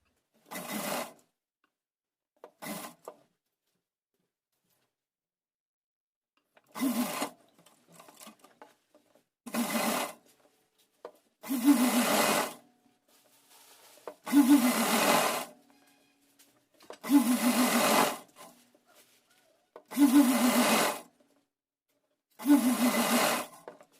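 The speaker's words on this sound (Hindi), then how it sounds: "ये 3 साइड से हमने सिलाई लगा ली है" A sewing machine stitches a folded cotton fabric strip in short bursts, starting with two brief runs and then settling into a regular rhythm of rapid mechanical whirring runs of two to three seconds, separated by pauses, close and clear.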